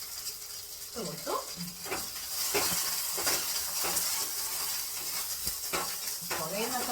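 Mustard seeds, dried chilies, fenugreek and curry leaves sizzle in hot oil for tempering, a soft, steady hiss that runs throughout while a voice speaks intermittently over it.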